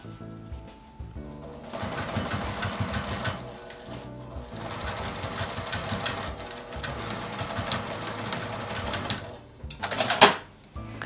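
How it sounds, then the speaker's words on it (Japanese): Close, busy whir of a sewing machine stitching a canvas tote bag strap in bursts of several seconds, with a short pause and a brief sharp clack near the end. "この紐の端まで縫います。"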